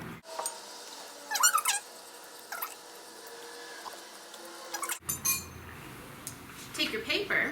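A spoon stirs baking soda and warm water in a bowl, giving soft scraping clinks and light squeaks against the bowl, with a sharper burst of clinking midway and more handling noise near the end.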